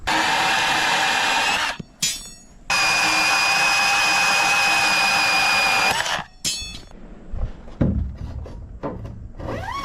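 A power tool cuts threaded all-thread rod for a do-it-yourself swimming pool build, giving two long, loud, steady whining cuts that stop abruptly, followed by clanks and handling noises.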